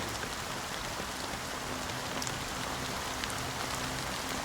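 Steady rain falls in the video game Honkai Star Rail, an even hiss of dense drops with no break, soft and constant.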